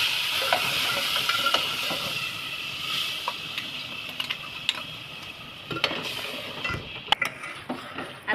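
Tomatoes with red chilli powder and whole spices sizzle in a pan for chicken masala, a continuous soft hiss broken by irregular scraping stirs and light clicks of the utensil against the pan.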